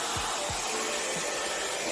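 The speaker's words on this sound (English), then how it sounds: "I'm going to come straight in with my dryer, and I do high fan and low heat" Hair dryer running on high fan and low heat while styling curly hair, a steady close whooshing roar with a few soft low thumps as it moves.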